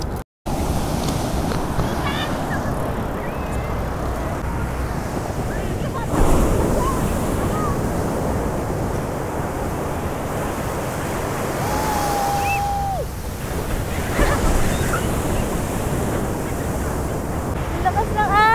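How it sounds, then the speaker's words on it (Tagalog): Strong ocean waves break on a beach in Zambales in a loud, continuous surf roar, with wind buffeting the microphone throughout and a brief surge midway. "Lakas ng alon!"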